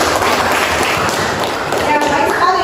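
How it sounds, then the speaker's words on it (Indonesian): Audience applause from a crowd, a dense, fairly loud wash of clapping that stays steady throughout, with a voice speaking over it. "tepuk tangan buat mereka"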